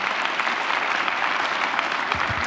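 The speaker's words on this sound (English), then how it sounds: "Can we please give her a round of applause?" Dense, steady audience applause at an evening school district state-of-the-schools event, a continuous wash of clapping from a sizeable crowd that starts to fade near the end.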